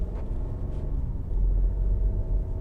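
Turbocharged 1.5-liter inline-3 of a 2022 MINI Cooper Countryman SE All4 plug-in hybrid pulling the front wheels, a steady low engine rumble with road noise that swells slightly partway through.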